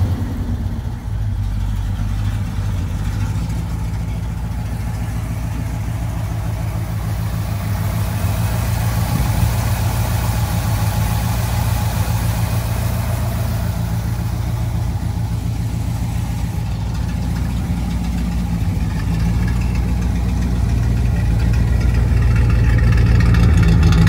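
A 1963 Ford F-250's V8 engine idles steadily with a deep, throbbing low rumble, loud and close, running continuously without revving.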